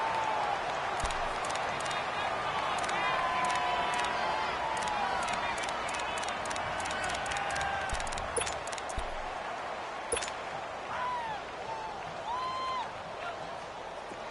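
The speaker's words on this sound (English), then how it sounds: "The crowd here in the Dome making things difficult." Stadium crowd noise in a PS4 American football video game, a dense, sustained roar with scattered whistles and shouts rising and falling under a steady bed of noise.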